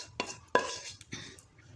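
A spoon scrapes and clinks against a pan while cooked brain masala (maghaz fry) is dished out: a few sharp, close metallic knocks and scrapes in quick succession.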